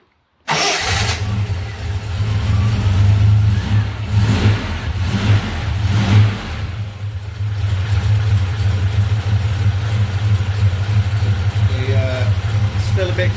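A restored Mk2 Ford Capri 3.0 Ghia with 36k original miles starts up on a hot day in Portugal, a loud crank catching into a rev then settling to a steady, rumbling idle heard close.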